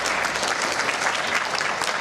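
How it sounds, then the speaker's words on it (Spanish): An audience applauds the female teachers serving as jury at a school reading event for fifth-graders, a steady, dense clapping from a crowd that fills the whole moment without a break. "Ellas son las profesoras Rosa María Blanco, un aplauso para ellas, Ernestina Flores Delgado y Rosalilia Venega"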